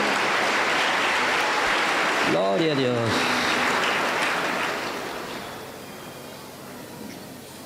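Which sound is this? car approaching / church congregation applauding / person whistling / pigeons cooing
church congregation applauding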